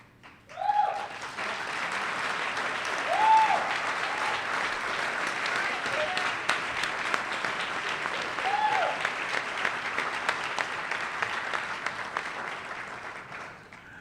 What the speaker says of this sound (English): I told you to hold your applause